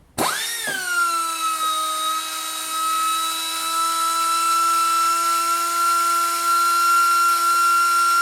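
Pneumatic die grinder running at full blast on a 60-gallon air compressor, spinning up sharply then holding a loud, steady high-pitched whine throughout.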